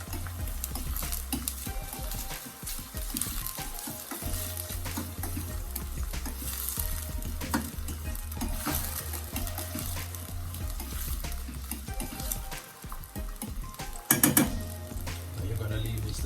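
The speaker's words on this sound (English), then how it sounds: "I'm just going to give that a stir." Garlic and Scotch bonnet pepper sautéing in a pan while being stirred: steady close sizzling and frying crackle with scrapes and clinks of a utensil, with a brief louder clatter near the end and occasional background voice.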